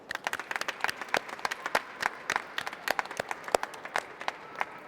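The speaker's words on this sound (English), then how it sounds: "can we just send some love and some applause to our friends in Egypt" A tour crowd gives applause of love to friends in Egypt, with scattered, irregular claps from a modest group, fairly quiet and at a distance, with no talk over them.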